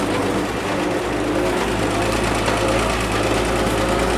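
A 1948 Chevy dump truck engine runs steadily off-road, a continuous low rumble with a rough, knocking texture holding at constant loudness throughout.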